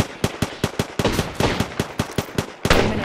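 Rapid gunfire from Apex Legends, a run of sharp, loud shots in an uneven burst-like rhythm, close up, with a louder blast near the end and no talking.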